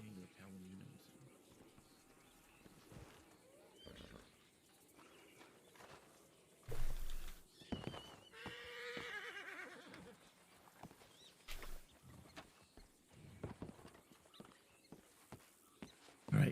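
Horse neighing in a Western video game, a whinny rising mid-scene amid hoof clops and scattered noises, with people talking over it.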